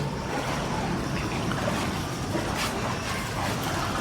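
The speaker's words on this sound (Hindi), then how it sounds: "ये देखो जी हमारे घर में कितना पानी बढ़ा, सारा नाले का पानी आया जी" Drain water floods through a house and street in Naraingarh, a steady rushing wash of flowing water with continuous broadband noise and no voices.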